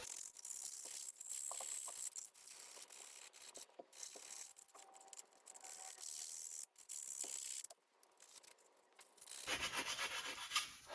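Soft, close scratchy rubbing of emery cloth on an old axe head in short irregular strokes, with brief pauses between passes and a louder rasp near the end.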